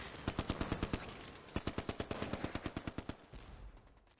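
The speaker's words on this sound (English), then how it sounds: "the Huns fire rifle rounds and machine guns at us" Machine-gun and rifle fire in a wartime street battle, rapid bursts of sharp, loud shots in quick rhythmic strings, pausing briefly and then resuming in a longer volley that trails off into rumbling.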